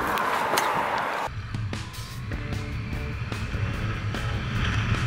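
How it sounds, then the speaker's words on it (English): Riding a Yamaha MT-09 motorcycle with no windshield: a steady engine drone sits under loud, constant wind buffeting close to the rider, with no talk. "There's a lot more power and definitely a lot more wind noise, being that there's no windshield."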